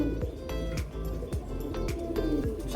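A khaki pigeon coos close by in soft, repeated low coos, heard against a busy background with other faint bird chirps and steady ambient noise.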